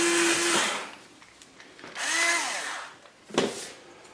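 An electric drill with a 1/8 inch bit bores through an injection molded plastic part in three separate bursts, each with a rising then falling whine, loud and close with short pauses between.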